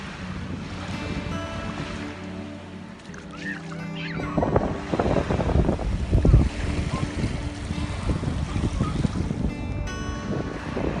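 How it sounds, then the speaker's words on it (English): Sea water washing and surging at Whitehaven Beach, Australia, recorded up close with steady broadband rushing and swells building in the middle, mixed with wind buffeting the microphone; no one speaks. "Oh, I love the sound of the water."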